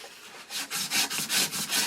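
A strip of sandpaper rubbed back and forth on wood while making a flintknapping pressure flaker, a quick run of rhythmic scratchy strokes, close and fairly loud, with no voices.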